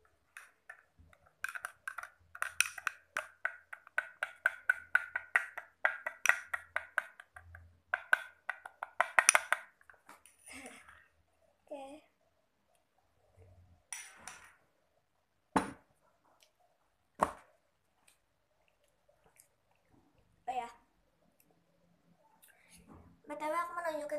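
A spoon stirring Energen drink in a glass, a run of quick light clinks and taps in a steady rhythm that thins into scattered single knocks, with quiet speech in places.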